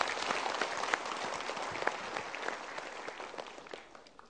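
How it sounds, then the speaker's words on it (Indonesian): An audience at a motivational seminar breaks into steady applause, dense, even clapping that stays fairly quiet and gradually tapers off toward the end, with no talking. "kita berikan tepuk tangan"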